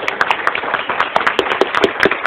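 An audience in a lecture hall claps and cheers for a group of volunteers, a dense burst of scattered, fairly loud hand claps throughout with no talk.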